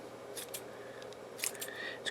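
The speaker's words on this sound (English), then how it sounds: "I just put the scissors right up against the edge and go around like this" Scissors snip around the edge of a glass cabochon, trimming away excess glue, in a few quick, close, crisp cuts over a low steady hum.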